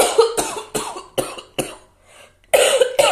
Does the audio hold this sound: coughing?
yes